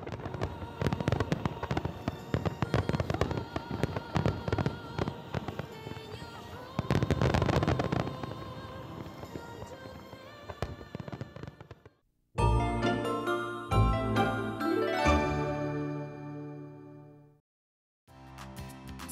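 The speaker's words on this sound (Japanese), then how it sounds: "最後は大会提供ワイドスターマイン土浦花火づくしの模様をお送りします" Wide Star Mine finale of the Tsuchiura fireworks display, a long barrage of dense overlapping bursts and crackles that breaks off, then returns as sharper separate booms before a brief silence and a final resumption.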